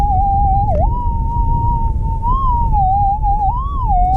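Over a gold target near Meekatharra, Western Australia, a prospecting metal detector sounds a continuous high tone that dips and swells in pitch a few times, clear and close over a low background rumble.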